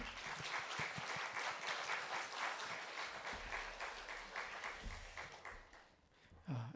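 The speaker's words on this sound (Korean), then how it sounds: "우리 나오실 때 힘찬 격려의 박수 부탁합니다." Sustained applause from a church congregation welcoming a missionary to the stage: a dense, steady wash of many hands clapping together, fading slightly near the end before a brief louder burst.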